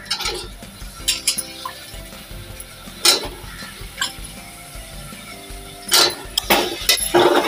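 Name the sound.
potatoes being added to onion-tomato masala in a pan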